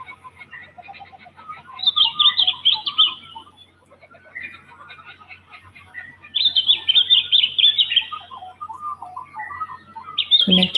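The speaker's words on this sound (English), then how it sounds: "connecting with the sound of the birds" Birds chirp and trill in bright bursts of song, pausing briefly between phrases, with a faint low hum underneath.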